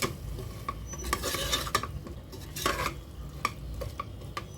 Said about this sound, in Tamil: இதையும் நல்லா மிக்ஸ் பண்ணி விடுங்க.